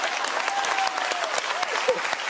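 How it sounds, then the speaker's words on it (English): A group of guys claps in the studio during a casual conversation show, the applause brisk and continuous for a couple of seconds with a few voices mixed in. "And look at all the guys over there clapping."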